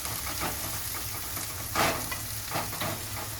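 Onions sizzle and are stirred in a pan for batata poha, a steady close frying hiss broken by several louder scraping stirs, the strongest near the middle.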